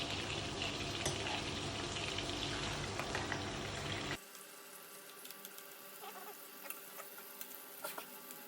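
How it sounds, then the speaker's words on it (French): Poultry in a pan with butter turning nutty brown, steady soft sizzling that drops suddenly to a quieter crackle with small pops and spoon-basting ticks, close and faint, no talking. "dès qu'il commence à devenir légèrement noisette, on va commencer à arroser notre volaille très doucement"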